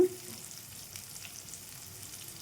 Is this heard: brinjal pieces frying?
yes